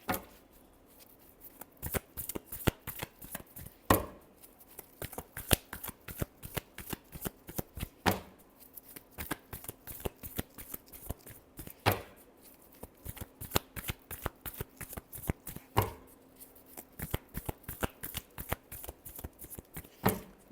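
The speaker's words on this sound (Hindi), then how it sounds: "last shuffle" A deck of tarot cards shuffled over and over, a rapid run of crisp riffling snaps with periodic louder flicks every few seconds, close and continuous with no voices.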